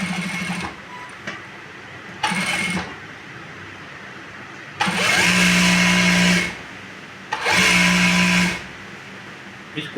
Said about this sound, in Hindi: और वही इसी तरह से क्रॉस में सिलाई लगानी है, इधर फिर वापस।